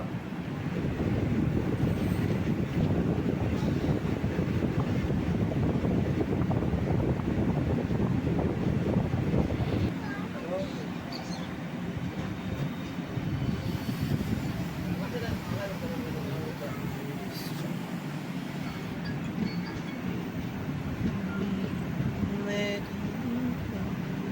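A passenger train bound for Ernakulam rumbles steadily with a broad, loud roar and wind buffeting, easing to a quieter rolling clatter after about ten seconds, with a voice talking throughout.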